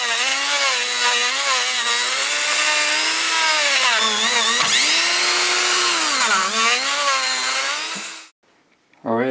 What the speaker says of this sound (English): Alright, I used the Dremel tool, and I just pulled a ton of junk out of there.